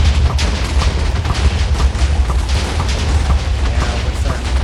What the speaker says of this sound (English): The next up is the TNT spammer, which shoots more and more TNT every time you shoot it.